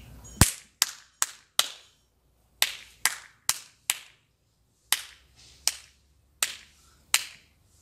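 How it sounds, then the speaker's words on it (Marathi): Sharp hand claps ring out in a four-beat counting rhythm, about fourteen crisp, loud strikes in uneven groups with short pauses between them, alone without speech. "आता मी बोलणार नाही, फक्त टाळी देईल."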